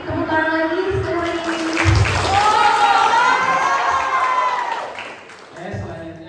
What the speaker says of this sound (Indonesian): Mari tepuk tangan lagi sekali.